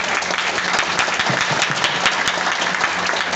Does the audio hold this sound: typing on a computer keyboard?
no